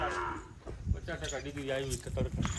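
A cow on a rain-soaked farm moos in a couple of drawn-out, wavering calls, close and fairly loud, with people talking around it.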